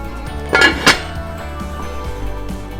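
A lid set onto a cooking pot of simmering meat sauce gives two sharp metallic clinks close together, followed by a faint lighter rattle as it settles.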